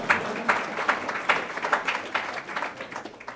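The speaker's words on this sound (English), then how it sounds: "go right ahead, clap" Students from a science and medicine school are greeted by an audience clapping, a moderate steady patter of many hands close by that holds for a few seconds without speech.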